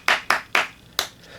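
Four sharp hand claps ring out alone at an uneven pace, close and fairly loud, with a short pause before the last one.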